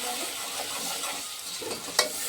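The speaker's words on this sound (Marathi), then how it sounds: "आता आपल्याला हलवून घ्यायचं" Ground masala being stirred in a hot frying pan for an aloo bhaji, a steady soft scraping sizzle with one sharper clink of the spoon near the end, no voices.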